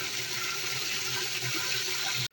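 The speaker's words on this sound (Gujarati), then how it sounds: "ખાતર છે ને થોડુંક મિક્સ કરી દઈએ હલાવીને તો ઓગળી જાય થોડું" Fertilizer being stirred into water to dissolve it, a continuous rushing, sloshing water sound, loud and close, running steadily before cutting off abruptly at the end.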